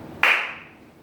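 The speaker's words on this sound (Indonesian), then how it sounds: "Jadi nanti kalau Bapak bilang tepuk tunggal, kalian tepuk satu kali." Students in a classroom give a single sharp clap in unison, a crisp close burst that rings out briefly and fades, with no talking.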